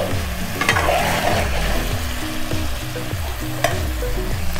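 Chicken tikka fries in oil in a pan over low heat, a steady close sizzle with stirring and scraping of the pieces, continuous and fairly loud, no voices.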